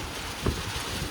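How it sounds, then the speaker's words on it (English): Low rumbling wind buffeting the microphone at a lake during a thunderstorm, steady and close, with a brief thump in the middle. "But it's super windy."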